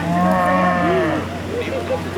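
A cow at a 1993 4-H livestock show gives a drawn-out, wavering moo close by, with people talking in the background.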